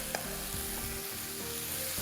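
Green chillies stirred into a hot sizzling pan while cooking a gyro sandwich filling, a dense continuous frying hiss with soft scraping stir strokes, close and steady with no voices.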